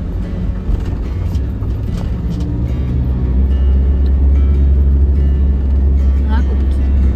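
A HERO Bimobil EX412 camper drives through an old tunnel, its engine a heavy, steady low rumble with booming road noise that swells toward the end, close and continuous.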